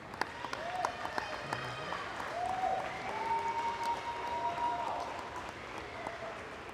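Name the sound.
audience applauding the Lady Jackets basketball team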